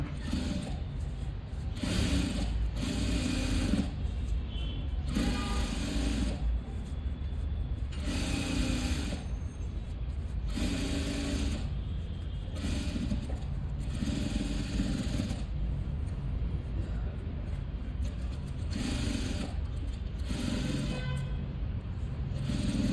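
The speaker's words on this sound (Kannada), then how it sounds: "ಇದನ್ನು ಪಟ್ಟಿಯನ್ನು ನೀಟಾಗಿ ಸ್ಟಿಚ್ ಮಾಡ್ಕೊತೀವಿ" A sewing machine stitches the strip of a lined blouse in steady bursts, its motor whirring in repeated runs of a second or two separated by short pauses, close and continuous with no talk.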